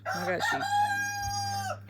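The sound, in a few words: rooster crowing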